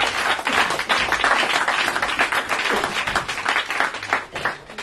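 A church congregation applauds, dense clapping that swells and ripples for several seconds, loud and close, with a few faint voices mixed in.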